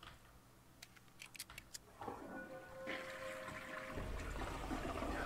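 A toilet flush from the plunger weapon in Call of Duty Black Ops zombies mode. A few crisp clicks lead into a gushing, swirling flush that rises and keeps running to the end.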